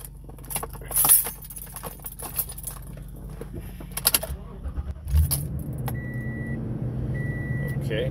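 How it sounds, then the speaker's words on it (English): A car engine cranks and starts after keys jangle, then settles into a steady low idle with an intermittent electronic beep, during an OBD2 scanner test. "Let's just start the engine."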